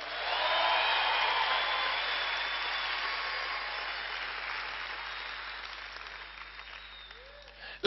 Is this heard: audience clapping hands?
yes